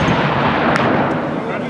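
A black powder mortar or cannon fires at a shoot, one loud booming blast that rumbles and fades over under two seconds.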